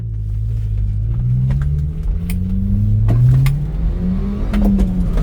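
A Subaru Sambar engine pulls hard in first gear on a test drive, its note climbing steadily in pitch as it accelerates. The loud, continuous revving comes from close by, with no talking over it.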